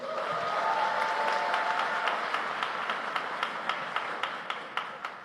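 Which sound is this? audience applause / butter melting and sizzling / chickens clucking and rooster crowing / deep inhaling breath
audience applause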